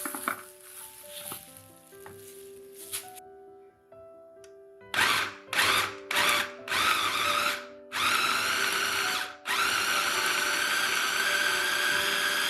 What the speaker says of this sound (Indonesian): Masukkan semua kelapa potongnya ke dalam food chopper lalu lumatkan sampai halus